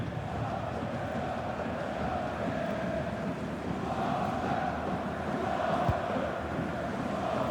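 Crowd noise from a Bundesliga football stadium during Hamburger SV against Hoffenheim, a steady distant rumble of many voices rising and falling as one mass, with no single voice standing out.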